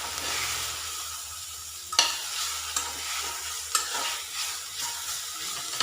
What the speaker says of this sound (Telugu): ఇక్కడ ఆకు చూడండి బాగా వేగిపోయింది కదా ఆయిల్లో